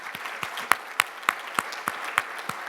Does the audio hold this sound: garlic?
no